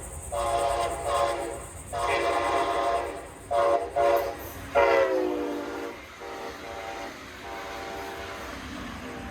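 A Brightline test train on a crew qualification run sounds its horn in several loud blasts, long then short, before the horn stops and the rumble of the passing train fades.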